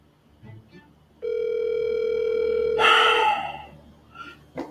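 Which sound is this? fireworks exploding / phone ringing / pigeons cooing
phone ringing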